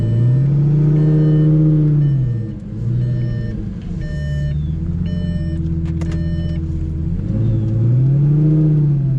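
A Lamborghini Gallardo engine hums loudly up close while reversing, its low drone swelling and easing as the throttle shifts, with high electronic reversing beeps repeating over it and no talk.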